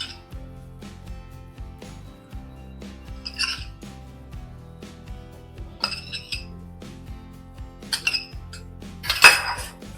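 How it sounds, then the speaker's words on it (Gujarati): Spiced masala peanuts are tossed together in a bowl, giving a run of light clinks, taps and scrapes of a spoon against the bowl, irregular and close, with no voices. "હવે આપણે એને બરાબર એકદમ મિક્સ કરી લઈશું"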